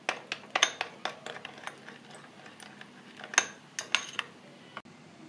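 Yogurt is mixed with sugar and garam masala in a bowl, and a spoon clinks and taps against the dish in irregular bursts. A few sharper knocks stand out from softer scraping, close and clear with no talk.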